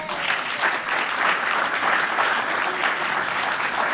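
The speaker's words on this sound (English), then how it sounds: "applaud this group of men up here" An audience fills the room with sustained, even applause for a group of men on stage, close and continuous from start to finish with no break.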